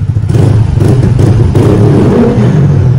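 A standard automatic motor scooter engine, close and loud, is revved under throttle with a rough, fluttering chop resembling a helicopter, no voices over it.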